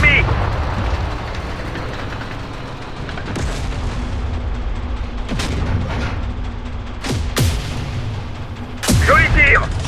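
An AMX-30 tank's cannon fire in the video game Tank Company: several heavy booming blasts, each with a sharp crack and a low rumbling tail, spaced a couple of seconds apart over a dense, loud battle din, with voices speaking amid the shots.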